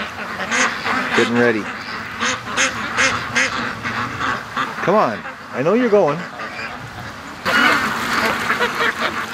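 A flock of ducks at a lake quacks in repeated bursts, some calls loud and near, while a person talks over them at intervals.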